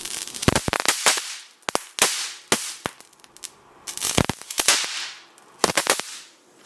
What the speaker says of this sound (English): it is now an actual explosive, and it does actually explode vigorously without help of solvents.